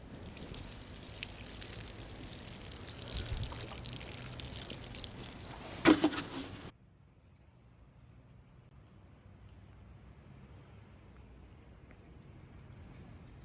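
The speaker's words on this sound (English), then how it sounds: "I've emptied a whole watering can of water over it." Water from a watering can pours and patters steadily onto a homemade tarp in the woods, then stops abruptly halfway through, leaving only faint quiet outdoor background.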